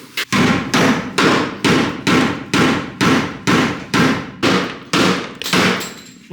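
Heavy metal clanging from a hammer striking a catback exhaust on a third-generation Camaro, about eleven evenly spaced blows, each ringing briefly before the next, loud and close.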